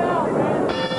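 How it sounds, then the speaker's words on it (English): A boxing bell clangs at the end of round five in a professional bout, ringing briefly over a loud, busy arena crowd. "And the bell sounds ending round 5"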